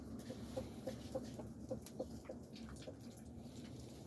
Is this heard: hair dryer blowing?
no